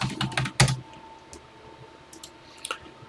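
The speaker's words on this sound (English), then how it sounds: "let's start typing" Typing on a computer keyboard while entering TI Basic code: a quick burst of clicks, one loud key strike, a pause, then a few scattered keypresses, close and alone.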